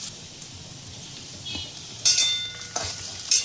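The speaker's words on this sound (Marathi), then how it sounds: "तर मी याला आता मस्त असं गोल्डन होईपर्यंत भाजून घेणार कांद्याला छान मुरू द्यायचं" Onions sizzle and fry in a pan while being cooked until golden for biryani, a steady soft sizzle broken by a few sharp metallic clinks and stirring scrapes, with no talking.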